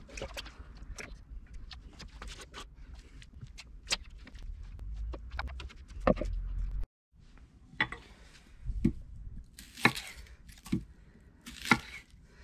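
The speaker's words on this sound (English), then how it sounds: "Now take your onions and make thin slices." A knife slicing onions thinly on a board for a Big Mac casserole cooked outdoors, with irregular sharp cutting knocks, some spaced and some in quick clusters, and short pauses between strokes.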